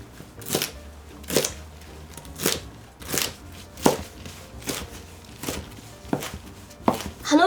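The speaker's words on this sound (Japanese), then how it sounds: "小松菜は2センチ幅に切っていきましょう。" Knife cutting komatsuna greens into 2 cm strips on a cutting board, about a dozen crisp chops at a steady unhurried pace, close and clear with no talking.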